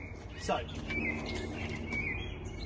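Several small birds chirp and tweet intermittently in the background, fairly faint, while someone speaks briefly over them.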